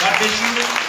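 Clapping from a church congregation in praise of the Lord, a dense, steady patter of many hands, brief and fairly loud, with some voices mixed in.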